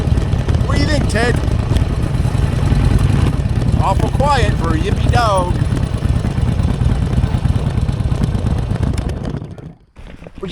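An old Harley-Davidson Sportster motorcycle rumbles steadily on an autumn ride, a loud continuous engine drone with wind, while a person talks over it and a dog's whines rise briefly before the sound cuts out.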